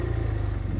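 A BMW F800R motorcycle engine drones steadily with a low rumble and slight clatter, heard close while riding two-up in Korea.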